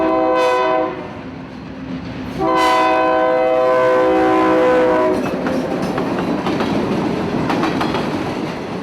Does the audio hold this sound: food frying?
no